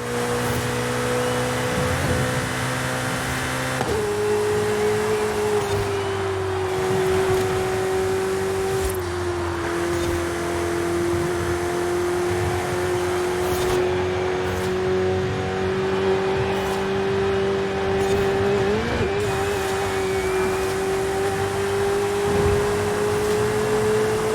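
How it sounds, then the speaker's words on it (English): Ferrari 488 Pista engine in the racing game Forza Horizon 5, a loud sustained drone held at a steady cruising pitch that dips slightly and recovers, with light road and wind noise under it. "turn up the game audio, let you guys listen to the Pista for a little bit"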